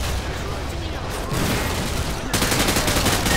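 Sentry gun fire in a Call of Duty: Modern Warfare 2 campaign battle makes a continuous dense roar of shooting that swells louder partway through, with voices mixed into the din.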